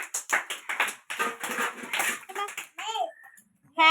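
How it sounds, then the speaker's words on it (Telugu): Small anganwadi children clap in quick scattered bursts, light and close, mixed with their chattering voices and a few higher squeals near the end. "ఓకే, క్లాప్స్ కొట్టండి అందరూ."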